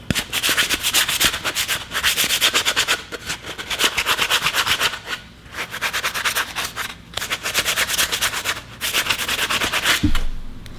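A drywall sponge rubs back and forth over an engine part from a 6.2L LT1 V8 Chevy, steady rhythmic scrubbing strokes, close and loud, with a few short pauses between bursts.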